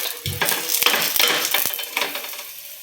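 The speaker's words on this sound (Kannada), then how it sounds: "ಎಣ್ಣೆ ಹಚ್ಕೊಂಡು ಬೇಸ್ಕೊಳ್ರಿ 2 ಸೈಡ್" A holige sweet flatbread roasting with oil on a hot tawa gives off a close, steady sizzle, broken by a few brief scrapes and taps from turning it, with no talking.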